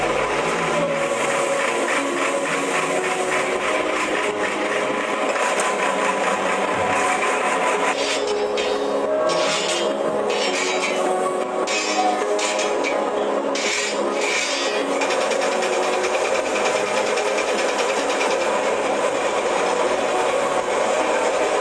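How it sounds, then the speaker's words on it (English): Conveyors, filters and large machinery at a Sambhar Lake salt processing plant make a steady, loud industrial roar, with a continuous broadband rumble and clattering, rattling bursts partway through. "The raw salt with a network of conveyors, filters and huge noise-making machines and tanks complete"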